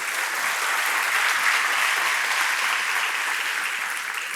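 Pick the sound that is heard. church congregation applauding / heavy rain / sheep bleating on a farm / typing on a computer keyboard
church congregation applauding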